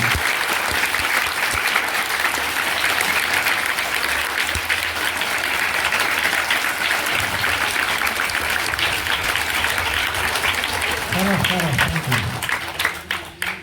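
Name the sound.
applause welcoming a guest at a school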